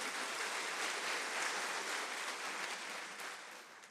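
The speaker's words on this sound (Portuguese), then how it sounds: "aplauda bem forte o nome de Jesus" Church congregation applauding during a worship service, a soft, even wash of many hands clapping that sounds somewhat distant and holds steady before easing off slightly at the end.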